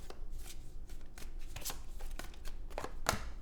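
Tarot cards are shuffled by hand in a steady run of riffling and flicking, close and fairly loud, with a sharper snap near the end and no voice.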